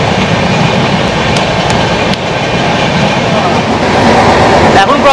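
Bhagalpur–Howrah Vande Bharat Express crossing close by, a loud continuous rumble and rush of wheels on rails with faint clatter and a brief high squeal near the end, heard from a train on the Kolkata to Sairang route.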